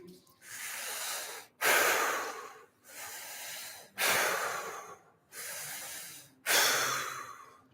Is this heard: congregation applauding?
no